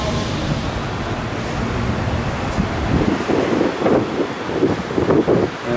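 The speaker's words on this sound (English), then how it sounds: "Must be too windy to go on there." Strong wind buffets the microphone outdoors at Blackpool, a loud, gusting rumble that swells and surges in irregular bursts.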